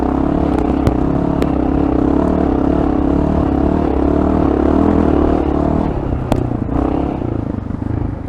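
A Honda XR650L dual-sport motorcycle churns through deep sand in third gear, its engine droning loud and steady with throttle held on, broadband roar joined by occasional clattering knocks and a brief dip near the end.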